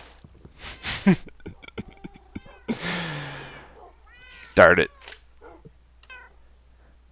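Cats meowing in the Minecraft video game, several distinct mews scattered through the stretch, one loud near cry standing out, while someone talks intermittently around them.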